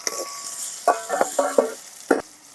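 Onions fry in oil in a pan, with a soft sizzle under a handful of sharp clinks and scrapes from the spoon against the pan.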